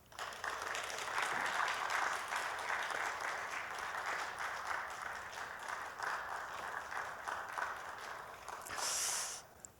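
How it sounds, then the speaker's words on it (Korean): A church congregation applauds a seminary professor coming forward to speak at a Sunday evening service, an even, moderately distant patter of many hands that continues for several seconds before breaking off with a brief noisy burst near the end. "우리 박수로 맞아주시면 감사하겠습니다."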